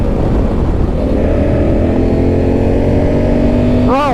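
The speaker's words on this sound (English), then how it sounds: "I'm giving it full throttle, and it took a little bit for it to kick itself down into the proper gear to let me take off" A 2022 Honda Africa Twin or a BMW R 1250 GS Adventure, an adventure motorcycle in automatic drive mode, pulling at full throttle with a loud, steady engine drone that rises in pitch throughout, close-miked with heavy wind noise.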